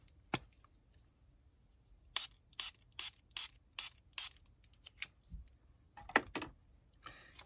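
A craft spray bottle gives a row of short, sharp hissing pumps, about seven even bursts in quick succession, close and clear against a quiet background with a few light handling clicks.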